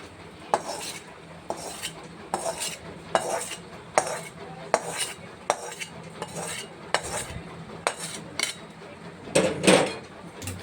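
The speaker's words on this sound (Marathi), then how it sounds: "मुरमुरांमध्ये मक्याची पापड पापडी शेंगदाणे हिरवी मिरची कढीपत्त्याची पानं त्यामध्ये आता हा जो मसाला आहे मिक्स करून घेणार आहेत" Spice masala tossed through puffed rice chivda with corn papad, peanuts, green chillies and curry leaves, a metal spoon scraping and clinking against the pan in a steady rhythm of close, fairly loud strokes.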